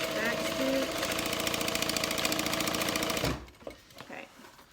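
A sewing machine runs steadily and close while back stitching a tote bag, its fast, even needle rattle holding for about three seconds before stopping abruptly.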